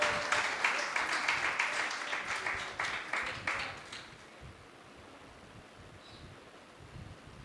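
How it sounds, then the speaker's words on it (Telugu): A church congregation at a gathering breaks into loud, rapid applause that carries for several seconds, then stops abruptly, leaving a quiet room with faint shuffling. "అందరు చప్పట్లు కొట్టి ప్రబంధనమయపరచండి"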